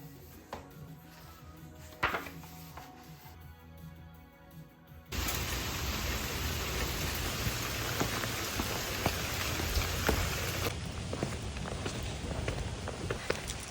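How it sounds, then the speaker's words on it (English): Steady rain falls on a surface, a loud dense hiss from about five seconds onward, with a quieter, sparser patter and a few soft knocks before it. "Rain, rain, go away. Come again another day."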